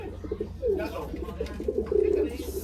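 Racing pigeon at the loft after a fun race, soft throaty coos repeating at close range under quiet background chatter.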